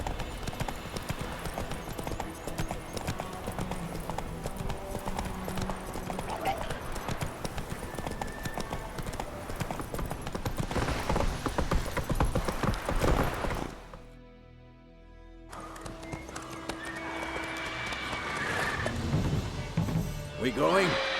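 A horse gallops in The Witcher 3, steady rhythmic hoofbeats with occasional snorts running for about twenty seconds, with voices speaking over them and a brief drop to near quiet partway through before the hooves return.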